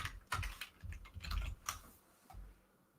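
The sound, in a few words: typing on a computer keyboard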